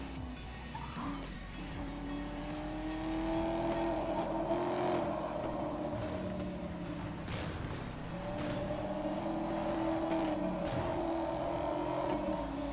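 A car engine drives in the Need for Speed: Most Wanted video game, humming steadily and rising as it revs, with tire squeals and scrapes against walls mixed in.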